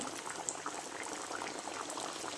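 Matar kachori sizzling in hot oil, four pieces dropped in at a time, giving a steady, dense crackling and bubbling frying sound throughout with no talk.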